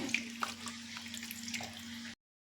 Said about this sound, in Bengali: এবার রসটা আমি ঢেলে দিচ্ছি, আর রসটা ঠান্ডা হয়ে গেছে।